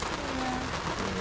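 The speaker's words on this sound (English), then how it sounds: "It's raining kind of hard up here" Hard rain pours down steadily, a dense, even hiss close by with a faint low tone running underneath.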